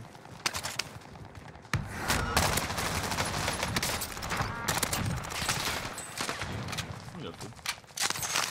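Dense gunfire from the battle royale game Warzone, rapid bursts and volleys crackling almost continuously at close range, with a voice talking over the shooting.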